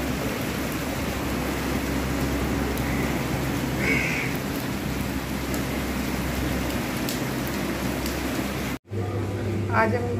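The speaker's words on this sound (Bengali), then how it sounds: "বৃষ্টি হচ্ছে খুব জোরে।" Heavy rain pours in a dense, steady hiss for several seconds, then cuts off abruptly near the end, leaving quieter sound.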